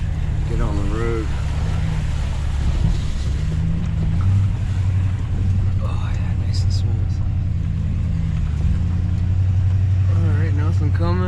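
Ford Powerstroke diesel pickup with its muffler deleted, towing a load on the road: a steady, loud low drone and rumble runs throughout, with brief bits of speech in the cab over it.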